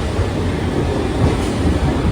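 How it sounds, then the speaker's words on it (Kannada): A moving passenger train bound for Mysore rumbles steadily and loudly close by, a continuous low-heavy roar of wheels and carriages with no voices over it. "ಟ್ರೈನ್"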